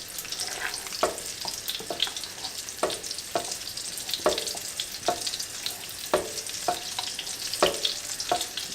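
Three thin Wiener schnitzel cutlets fry in a shallow pan of fat, giving a continuous crackling sizzle broken by rhythmic scraping spoon strokes about once a second as fat is basted over the top.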